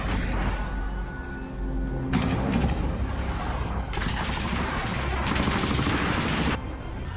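Rapid bursts of gunfire from an Israeli military vehicle in combat, loud and harsh with sustained automatic volleys and shifting intensity, no clear speech.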